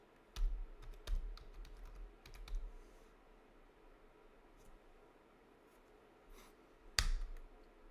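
Typing on a computer keyboard while entering a Linux Mint terminal command: scattered clicky keystrokes, some in quick clusters and others spaced out, with one sharp louder key hit near the end over a quiet room.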